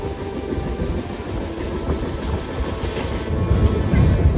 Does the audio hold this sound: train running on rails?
yes